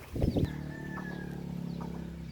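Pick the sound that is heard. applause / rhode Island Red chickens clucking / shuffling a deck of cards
rhode Island Red chickens clucking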